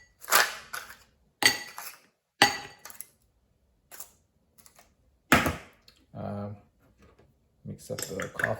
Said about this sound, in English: Whole bunch of ice cubes.